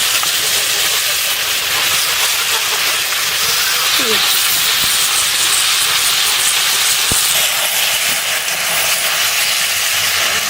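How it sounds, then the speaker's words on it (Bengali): Bottle gourd pieces drop into hot fried masala already cooking with goat tripe, producing a loud continuous sizzling hiss that stays even for the whole stretch, with a couple of faint knocks. "মশলা ভাজা হয়ে গেছে আমি এখন লাউগুলো দিয়ে দিচ্ছি"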